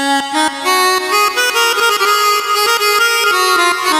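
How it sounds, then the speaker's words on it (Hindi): An electronic musical keyboard plays a bright, dense run of sustained notes with quick repeated key strikes, loud and close, captured directly as an internal recording with no voices. "अभी आपको एक बार मैं कीबोर्ड का साउंड सुना देता"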